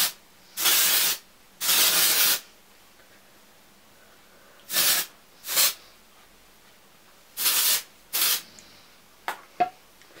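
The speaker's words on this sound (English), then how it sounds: "I like to take my Obey Dry Texturizing Spray and just spray it all through" Dry texturizing hair spray hisses out of an aerosol can in six sharp, close bursts worked through curled hair, each lasting under a second, with quiet pauses in between and no voices.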